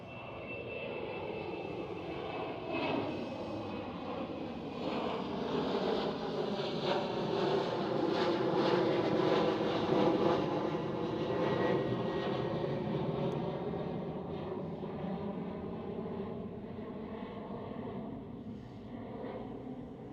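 A British Airways CityFlyer Embraer E190 jet takes off at Schiphol, its engine roar swelling to a loud peak and then slowly fading into the distance, with light wind noise.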